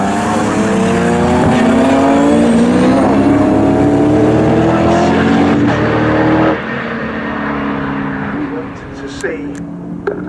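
A Ford Escort and a BMW saloon race car roar past at Snetterton during a Thunder Saloons race, loud engines rising and falling in pitch as they close and recede, with commentary talking over them.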